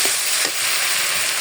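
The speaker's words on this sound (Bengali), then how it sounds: "এখন মশলাটা ভালোভাবে কষিয়ে নেব" Spices with turmeric, salt and fried potatoes stirred and fried in a pan for a home-style hilsa and pointed gourd curry, a steady broadband sizzle with a couple of soft spatula scrapes, close and continuous.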